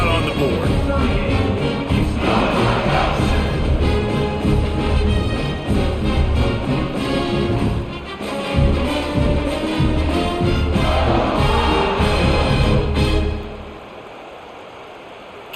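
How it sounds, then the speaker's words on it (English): Stadium crowd in EA College Football 26 during a UCLA at Ohio State game, a loud continuous roar with surging cheers for about thirteen seconds before dropping off to quieter ambience. "this crowd is feeling themselves after that last drive"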